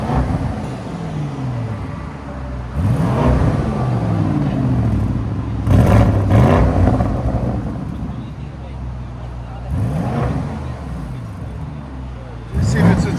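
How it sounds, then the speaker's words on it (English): A 2026 Audi RSQ8 with a 4.0L twin-turbo V8 and resonator delete idles with a deep burble, then is revved hard three separate times, each sharply rising and falling. Wind buffets the microphone throughout. "Give it gas now. Rev it hard, Mike."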